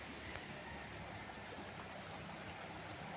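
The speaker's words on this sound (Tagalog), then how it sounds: "ito yung ilog mga kapraps ha, ang ganda niya." A river flows through a farm lot in Real, Quezon, a faint steady rushing wash of water with no voices over it.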